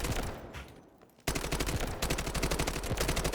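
Rapid automatic gunfire from a gun with a 70-round magazine in the Delta Force video game, a brief burst, a short lull, then a loud sustained stream of evenly spaced shots close up.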